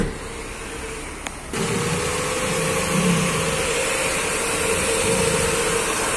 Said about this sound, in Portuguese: O motor tá fazendo um leve estralado aqui, barulhinho